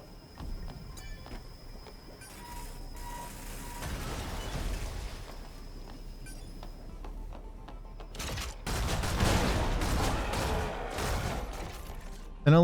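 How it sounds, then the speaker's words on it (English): Gunfire from shooting enemies in the video game Stellar Blade: faint scattered shots early, then a dense, loud burst of rapid fire in the second half, with a sharp hit at the very end. "And I like shooting things."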